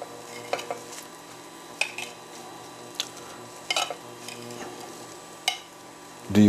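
Cilantro being mixed into chopped tomato for a southwestern black bean empanada filling, heard as sparse, quiet clicks and scrapes of a utensil in a bowl, with a heavier knock at the end and no talking.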